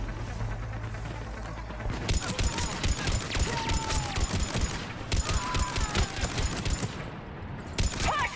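Close-range rifle fire in the video game Mass Effect 3, starting after two seconds as dense rapid bursts of shots that repeat in fast runs, loud and near, with brief pauses between volleys.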